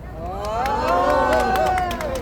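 Crowd at an anti-impeachment rally in front of the Constitutional Court in Daejeon, clapping in scattered bursts and cheering around a raised, carrying voice.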